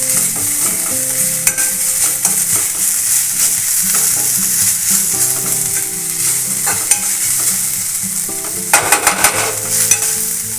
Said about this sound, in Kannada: ಒಂದು ಸ್ವಲ್ಪ ಫ್ರೈ ಮಾಡ್ಕೋಬೇಕು ನುಗ್ಗೆ ಸೊಪ್ಪನ್ನ.